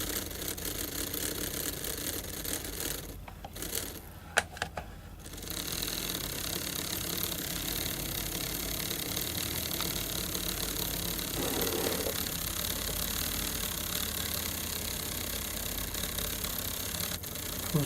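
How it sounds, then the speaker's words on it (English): A small electric motor in an N-gauge Atlas SD45 model locomotive runs with a bogie removed, giving a steady, thin whir that continues almost unbroken, with a brief dip partway through. "the motor seems lively enough"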